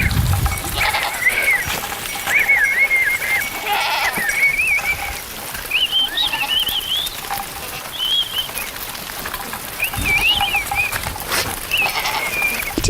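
Herded goats bleat repeatedly in an open field, with several overlapping calls at irregular intervals against a light outdoor background.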